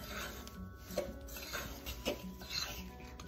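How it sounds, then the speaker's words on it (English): A fork scraping and stirring graham cracker crumbs into melted butter in a bowl for a no-bake dessert crust, soft gritty rubbing strokes with a few light clinks, close and quiet. "I'm just gonna use my fork and just mix this graham cracker crumbs in with the butter"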